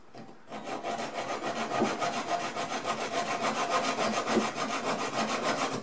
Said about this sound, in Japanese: ノコギリでカットします。